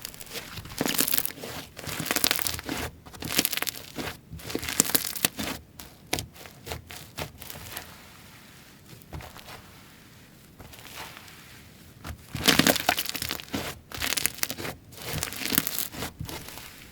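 Crunchy butter snowflake slime containing a little clay is squeezed and worked by hand, giving close, repeated crackling and crinkling bursts in irregular clusters with quieter gaps between.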